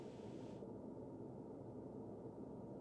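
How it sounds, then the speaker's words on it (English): Flat hiss of white noise in a Pokemon video game battle scene with no music, steady and fairly faint throughout, its upper band dropping away shortly after the start. "They just added white noise."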